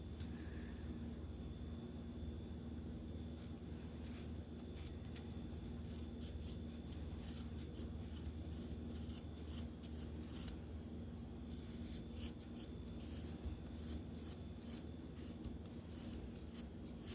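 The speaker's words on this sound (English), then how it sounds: "And then we're gonna cut our yarn." Scissors snipping through yarn while making a Santa hat, a series of quiet close clicks and rubbing snips over a steady low background hum, no talking.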